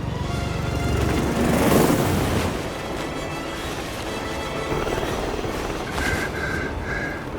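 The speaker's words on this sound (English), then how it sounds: "Alexa Carlisle's helicopter just took off" Helicopter lifting off in the video game Hitman 3, a dense, steady rotor and engine roar that swells around the second mark, then holds as a loud continuous drone with faint electronic tones near the end.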